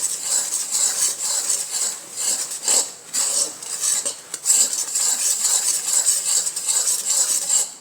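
Gram flour that has been roasted is stirred with sugar syrup in a pan for mohanthal, giving steady scraping and clinking of a spoon against metal that runs close and fairly loud throughout, with no talking.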